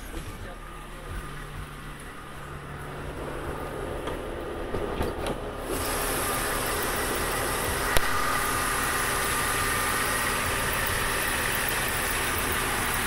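A 2006 Mercedes-Benz CLK 350 engine idles, a steady low rumble that grows louder and brighter partway through, then holds even with a single sharp tick.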